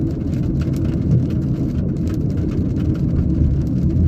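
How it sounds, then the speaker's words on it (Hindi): Steady rain falling, a light drizzle building into heavier rainfall, with a dense continuous wash of patter close by, no voices. "ये बूंदाबांदी मेरा ख्याल कन्वर्ट हो रही है थोड़ी सी तेज़ बारिश में।"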